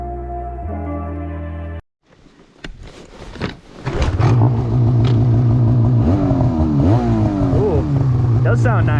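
A snowmobile engine fitted with a Sidekick aftermarket muffler and clutching revs up loudly after a brief pause, then settles into a strong, steady drone with a light rasp, with rising and falling pitch sweeps as the throttle is worked.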